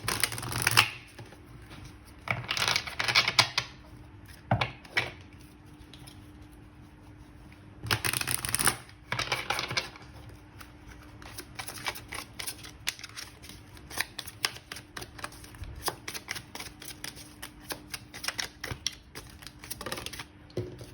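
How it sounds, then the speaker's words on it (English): A deck of oracle cards is shuffled and handled in a quiet room, giving soft riffling bursts, flicks and papery slaps in irregular clusters, faint and close, with no voices. "I'm gonna get some more oracle cards."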